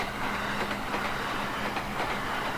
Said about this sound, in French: Ici le passage d'un train de ligne au nord de Kyoto qui emprunte la ligne E